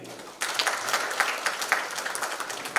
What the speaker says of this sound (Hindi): इनके लिए ताली है